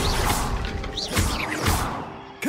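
Confringo spell blasts in the Hogwarts Legacy video game, a series of three whooshing, fiery impacts with crashing thumps, each swelling and fading, loud and close.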